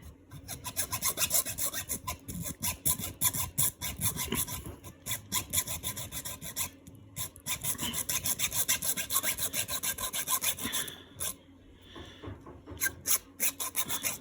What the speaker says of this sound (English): once you've cut into the metal, just slightly, not all the way through, just making a groove.